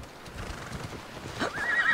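A horse in the video game Assassin's Creed Odyssey gives a single rising whinny near the end, over faint hoofbeats and background ambience.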